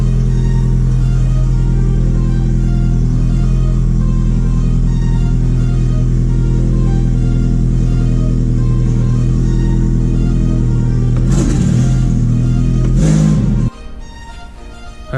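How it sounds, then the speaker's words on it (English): A big-turbo E85 VW Jetta engine runs at a loud, steady, droning cold-start idle close by, then abruptly drops off to a quieter rumble near the end. "Never a bad day for a cold start."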